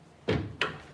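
A hotel room door at Resorts World swings shut with two quick close thumps, a heavier knock followed by a sharper latch click, loud and near, with no talking.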